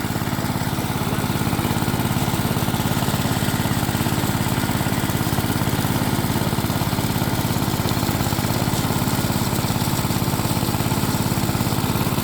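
A small engine-driven farm water pump with its suction changed to a 2-inch line runs steadily at close range, giving a continuous, even buzzing drone with fine vibration and no voices.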